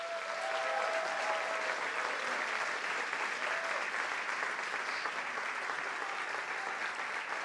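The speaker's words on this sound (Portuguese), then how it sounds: "Mais aplausos, por favor." Sustained audience applause after a slam poetry performance, a dense, even wash of many hands clapping throughout, moderately distant, with faint whistles and cheers mixed in.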